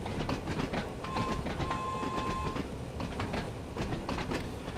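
Train running in the video game Train Sim World 2 on the Isle of Wight, a steady rumble of wheels with rhythmic clickety-clack on the rails and a brief tonal whine, continuous and moderately loud without voices.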